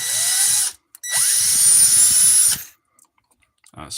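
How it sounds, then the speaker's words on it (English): Small power drill boring holes in a plastic kitbash model figure, two close high-pitched whining bursts with a rising spin-up, separated by a short pause, then quiet with faint clicks. "Honestly, I feel a little silly drilling holes in this."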